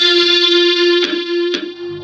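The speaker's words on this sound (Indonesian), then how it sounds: "Hardcore distortion." An acoustic guitar runs through a hardcore distortion effect plugin, a loud buzzing sustained tone with three sharp re-struck attacks.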